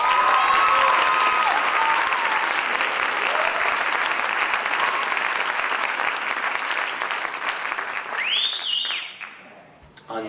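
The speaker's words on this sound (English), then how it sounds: "Please give a round of applause to Benjamin Zuck." A jazz workshop audience applauds a young musician after a combo performance, loud, dense clapping that holds for about eight seconds, then tapers off, with a brief sound rising near the end.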